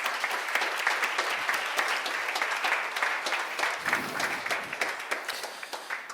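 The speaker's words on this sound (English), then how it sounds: "a round of applause for the mother and daughter" Sustained applause from a crowd, dense clapping throughout, loud and continuous with no talking.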